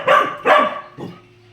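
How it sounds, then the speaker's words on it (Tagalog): A dog on a home porch barks nearby, two loud sharp barks followed by a softer third. "Ang aso."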